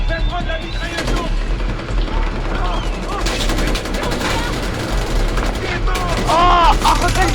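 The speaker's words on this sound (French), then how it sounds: "Je vais prendre la mitrailleuse lourde!" Heavy machine gun fire in the video game Far Cry 4: loud, dense automatic bursts run through the whole stretch, with a player's voice and other game sounds over the shooting.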